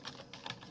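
Quick, faint clicks of typing on a computer keyboard, a few keystrokes tapped in a short burst, heard alone.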